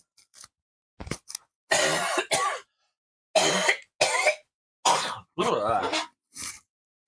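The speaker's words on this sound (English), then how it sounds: "I'm going to have to cough here for a moment, so I'm moving the mic away from my mouth." A string of harsh coughs and throat-clearing bursts, each short and close, separated by brief silences, repeating unevenly over several seconds.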